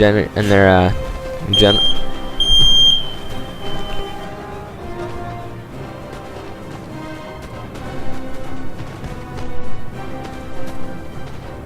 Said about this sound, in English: fire alarm just went off back there